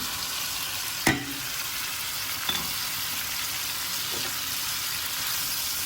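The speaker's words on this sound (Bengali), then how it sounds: "সবজি দিয়ে আবারও ভালো করে কষিয়ে নিব" Winter vegetables and fish stir-fried in spiced oil, a steady hissing sizzle broken by one sharp utensil knock against the pan and a couple of softer scrapes, close with no talking.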